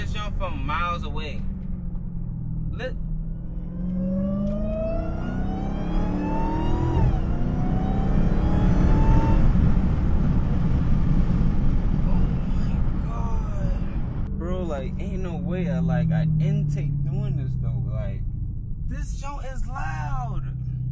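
Supercharged Dodge Hellcat with a Legmaker intake revving up close, a rising whine climbing and falling over the engine roar through several long pulls, with excited voices talking at the start and end.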